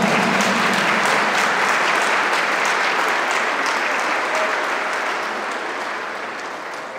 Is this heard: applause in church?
yes